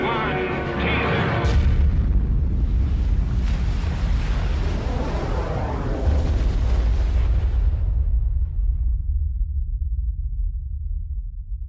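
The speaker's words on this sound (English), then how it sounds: "It explodes with a force of 10 million tons of TNT, 600 times more powerful than the bomb that destroyed Hiroshima." A 10-megaton atomic bomb test blast erupts as a sudden, massive roar, then a sustained, deep rumbling boom with wind-like turbulence that rolls on for several seconds before the upper hiss drops away, leaving a low, heavy rumble.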